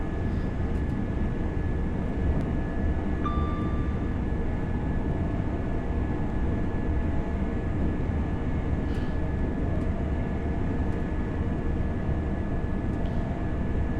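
A Class 801 Azuma train pulling away under notch power on the East Coast Main Line in Train Sim World 6: a steady, loud broadband rumble with a faint high whine, continuous and unbroken throughout.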